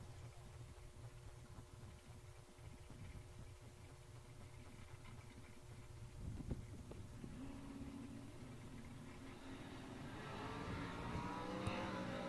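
At a drag racing event, a Corvette Roadster and a truck idle in the distance, then engines rise and roar louder toward the end, with a far-off, hazy quality.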